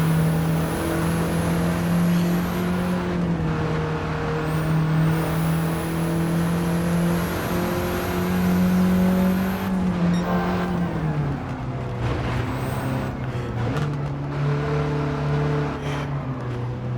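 A race car engine drones loudly and continuously while lapping Mount Panorama in a driving video game, its pitch rising and falling through gear changes and corners.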